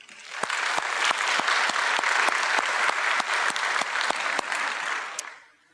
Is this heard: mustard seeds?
no